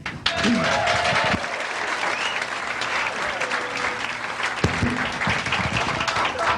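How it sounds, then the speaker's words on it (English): A stand-up comedy and magic show audience breaks into sustained applause, dense clapping that fills the room for several seconds with a few voices faintly mixed in. "Just by a round of applause"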